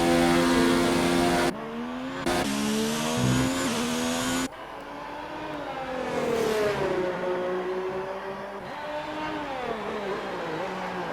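Racing cars, a Ferrari leading, roar past the start-finish line at an Australian circuit in a racing game, loud engine notes rising and falling as they pass close by, with no talk.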